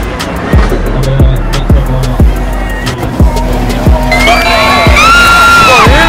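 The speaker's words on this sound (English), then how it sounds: "Oh, hear that man scream?" A man screams on a ride at Thorpe Park over a steady rumble of rattling, clacking ride machinery, with other riders' shouts and whoops mixed in toward the end.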